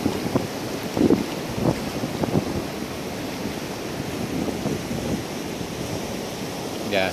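Sea waves wash onto the shore at Bãi Sau beach in Vũng Tàu, a constant broadband roar with wind buffeting the microphone and a few louder surges.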